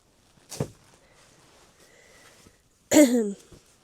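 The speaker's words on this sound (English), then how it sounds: "I'm coughing in here because it's a little bit dusty and stinky" A person coughs in a dusty, musty abandoned house in Tokyo while sorting old kimono textiles: one short cough, then a quiet stretch, then a louder, rougher throaty cough.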